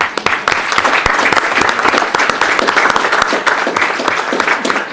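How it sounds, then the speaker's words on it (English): Sustained applause from a school board meeting audience thanking staff, dense steady clapping filling the room for several seconds with faint voices mixed in. "really just want to give them a round of applause"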